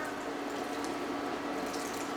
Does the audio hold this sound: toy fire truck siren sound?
no